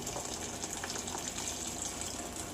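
Coffee pours steadily into a pot, filling it in a continuous, even gush of liquid that stays fairly soft and close, with no talk.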